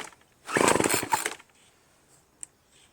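A Troy-Bilt TB320BV gas leaf blower with a faulty carburetor fires on choke and runs in a loud, ragged two-stroke buzz for about a second, then dies away to near silence.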